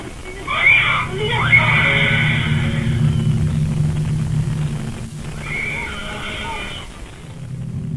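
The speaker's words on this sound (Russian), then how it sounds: "Девочка будто что-то увидела, издала страшный визг" A young girl's terrified shriek at night, caught on a home surveillance camera: a loud, strained high-pitched scream lasting a couple of seconds, then a shorter second cry over a low background hum.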